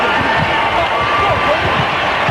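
Steady, loud crowd cheering and roar filling an arena at a 1986 NCAA Elite Eight basketball game between Duke and Navy, continuous throughout with no pauses.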